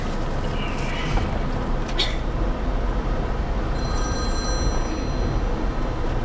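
Telephone bell ringing loudly and steadily through the whole stretch over a busy, noisy background, with voices talking in a comedic drama scene.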